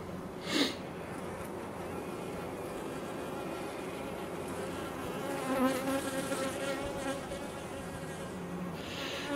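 Honeybees buzz around open beehives during an inspection: a dense, steady hum with individual bees droning close by, continuous throughout.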